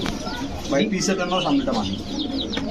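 Pigeons for sale, including beauty, king, racer and giribaz breeds, coo softly while someone talks over them at close range.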